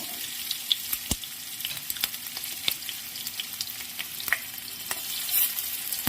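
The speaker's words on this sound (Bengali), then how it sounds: "এবার সর্ষের তেলটার মধ্যে তেজপাতা, 5 ফোড়ন, কাঁচা লঙ্কা দিয়ে দিলাম। এটা একটু ভেজে নেব তেলের মধ্যে।" Bay leaf, panch phoron and green chili fry in hot mustard oil, a continuous crackling sizzle with sharp spits and pops scattered through it, close and unaccompanied by talk.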